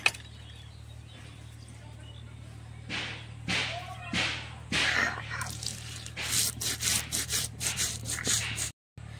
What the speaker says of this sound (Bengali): লাল সরষেটা অল্প করে দিতে হবে, আর দিয়ে দেবো পোস্ত। তিনটে একসাথে বেটে নেব।